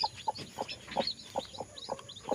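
Hens cluck and newly hatched chicks give soft peeping calls at close range, a steady run of short, evenly spaced calls with no talk.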